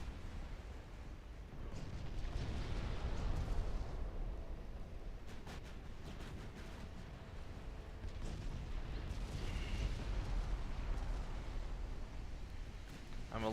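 Naval guns firing and shells exploding in the warship battle game Ultimate Admiral Dreadnoughts, with Austro-Hungarian battleships: a steady, dense rumble of booms and blasts that carries on throughout.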